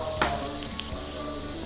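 Garlic and chopped onion frying in a pan, a loud, close, continuous sizzle with a couple of faint utensil taps, no talking.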